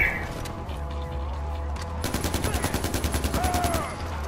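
Rapid bursts of gunfire from the video game Far Cry 4, a steady run of evenly spaced shots that starts partway through and carries over an ambient game background.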